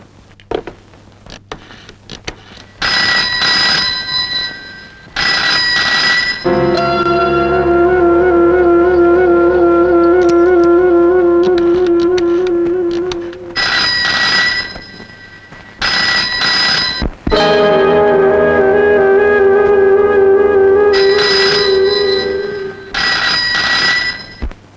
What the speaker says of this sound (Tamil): வீட்டுல பெல் அடிச்சுட்டே இருக்கு.